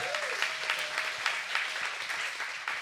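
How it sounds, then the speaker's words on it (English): Audience applause at a Fuckup Nights event in Toronto, a crowd clapping with individual claps audible in loose bursts, moderately distant and steady throughout. "Can we give them another round of applause?"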